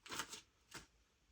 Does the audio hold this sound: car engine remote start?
no